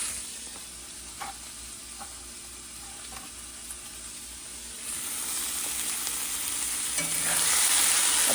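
Goat fat fries with spice paste in a pan, a steady near sizzle punctuated by scraping stirs, the hiss swelling louder and brighter in the final seconds.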